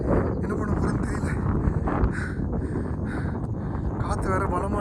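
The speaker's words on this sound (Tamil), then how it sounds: "காற்று வேறு பலமாடிக்குது." Strong wind buffets the microphone atop Bolumalai hilltop fort, a steady, loud roaring rumble with gusty swells, while someone talks over it.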